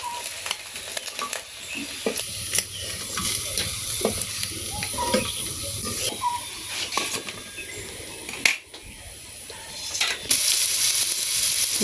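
Onions go into a hot pan in a Bangladeshi village kitchen and are stirred as they fry, with a steady sizzle and repeated scraping and stirring strokes throughout, close and fairly loud.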